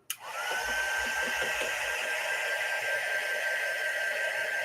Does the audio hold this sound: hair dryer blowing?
yes